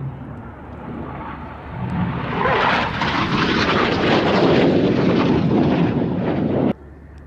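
Red Arrows jets at an airshow making a close pass: a rising roar that swells from a distant rumble to a loud, broad jet noise, then cuts off sharply near the end, with wind buffeting the microphone.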